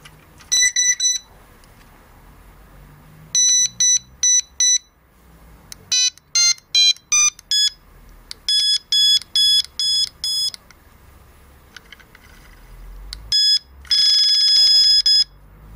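An NGT electronic fishing bite alarm, switched on and submerged in water, gives repeated bursts of sharp, high-pitched beeping in quick groups with short gaps, loud and close, with a faint bubbly underwater background.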